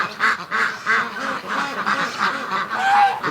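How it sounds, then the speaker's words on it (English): Muscovy ducklings outdoors on a cool morning peep and quack in rapid, repeated bursts, loud and close, with no talking. "These little ducklings are running around outside."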